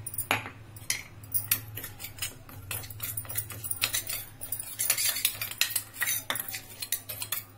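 A spoon stirs and tosses potato finger chips with salt and pepper powder in a bowl, producing continuous rapid metallic scraping and clinking against the bowl over a steady low hum.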